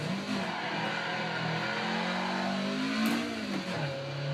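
A Toyota AE86 engine in a racing video game at the Nürburgring revs continuously, pitch rising and falling as it accelerates and shifts, loud and close with steady road noise underneath.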